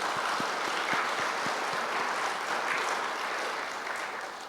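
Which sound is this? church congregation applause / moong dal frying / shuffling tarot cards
church congregation applause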